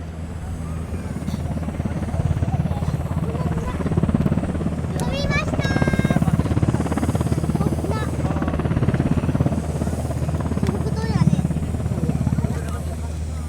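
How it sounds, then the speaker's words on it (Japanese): A JMSDF SH-60K Seahawk helicopter at Ozuki air base, running on the ground before takeoff at a rescue demonstration, gives a loud, steady turbine drone and rotor whine throughout, while an announcer speaks over a public address system. "SH-60K が捜索のため離陸しました。"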